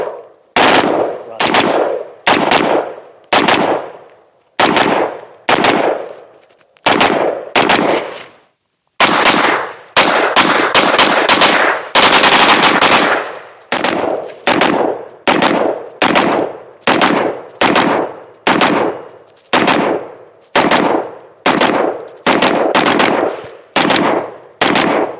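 Automatic gun fed from a 100-round drum magazine firing loud, close bursts and single shots with short pauses between them, including one long, dense burst in the middle.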